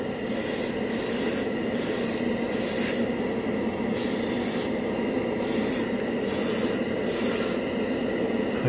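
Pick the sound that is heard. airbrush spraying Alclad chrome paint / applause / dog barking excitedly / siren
airbrush spraying Alclad chrome paint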